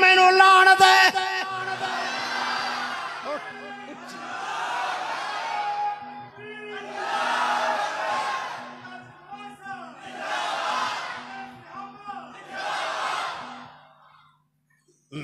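A crowd at an outdoor Quran lecture in Arzanipur, Kasur district, chants the Nara-e-Takbeer slogan in five loud, roaring bursts of massed voices, each rising and fading with short gaps between them.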